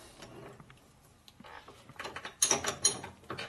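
Tightening a lathe setup during a Harley shovelhead head repair: quiet workshop rustle, then a burst of metallic clicks and clanks as the tool post is cinched down, close and unaccompanied by talk.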